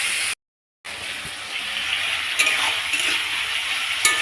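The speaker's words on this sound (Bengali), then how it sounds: "এখনো কষানো হয়নি, এখনো হচ্ছে কষানো।" Fish curry masala being fried and stirred in a pan, a continuous bright sizzle with soft scraping of the spoon, briefly cut to silence near the start, then steady up close with small crackles.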